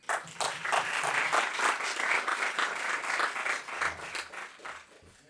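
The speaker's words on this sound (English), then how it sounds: "Applause for you." Audience applause in a conference session hall, brisk clapping that rises quickly, holds steady for several seconds and then thins out as the clapping fades, with a faint voice near the end.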